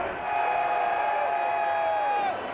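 Protesters shout near police lines in a pushing, jostling crowd, a sustained loud mass of raised voices with one long drawn-out yell standing out above the din.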